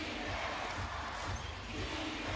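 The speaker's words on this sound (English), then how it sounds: "now you hear the Tokyo crowd here at the Yoyogi Coliseum trying to rally behind their team" A Tokyo basketball crowd rallies behind its team at the Yoyogi Coliseum in a B.League game against Utsunomiya Brex, a steady, dense roar of voices with low rumbling that holds without a break.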